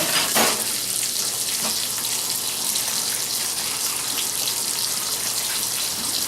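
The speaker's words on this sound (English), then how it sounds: "I go ahead and just let them fry" Pork chops frying in a pan, giving a steady broadband sizzle with a few sharp pops and spatters near the start, continuous and fairly close with no talking.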